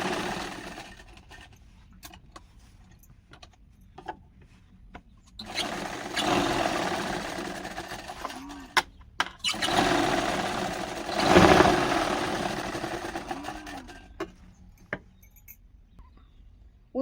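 A sewing machine stitching a prince cut boat neck blouse, its motor whirring in a steady hum that rises into louder running bursts of a few seconds each and then eases off, with quieter gaps between.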